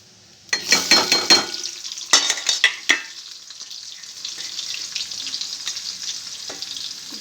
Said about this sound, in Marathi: तेल तापले जिरे घालायची मोहरी घालायची आणि त्याच्यामध्ये कांदा घालायचा